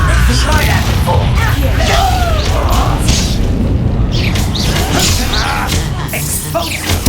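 A spell detonates with dense, continuous rumbling blasts and crashing debris, loud throughout, in the Hogwarts Legacy video game, with brief shouting voices mixed in.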